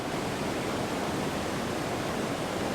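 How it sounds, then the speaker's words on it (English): Sweden's tallest waterfall roars as a dense, continuous rush of falling water, loud and steady throughout, with no voices. "There you have it! Sweden's tallest waterfall!"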